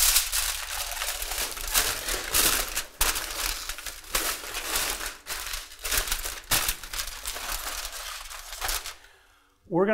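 Aluminium foil crinkles and rustles in bursts as a sous vide prime chuck roast is wrapped after searing, close and fairly loud, ending in near silence.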